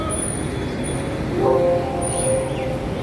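A train at Vadodara railway station, a steady low rumble with a faint high tone and a brief metallic squeal midway, heard amid station ambience.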